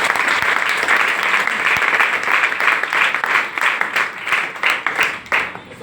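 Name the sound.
loud applause from audience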